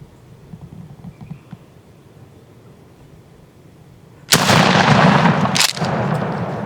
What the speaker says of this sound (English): I shot over his head.